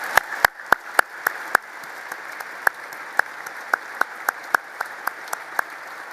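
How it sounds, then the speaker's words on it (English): Audience applause at the Reagan National Defense Forum, heard as sparse, scattered individual claps spaced irregularly across several seconds in a large hall, fairly light rather than a dense ovation. "Let's give them all a round of applause."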